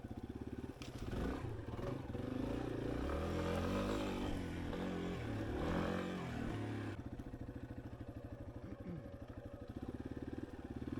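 Yamaha XT250 dual-sport motorcycle ridden offroad on mountain trails in the Laurentians, a close, loud single-cylinder engine revving and labouring through rough ground, with rattling and scraping, then settling to a steadier throb.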